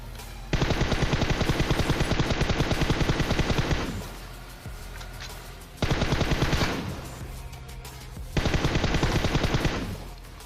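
Bursts of automatic M4 rifle fire from a shooter video game: three long, rapid, loud volleys with short gaps of quieter game sound between them.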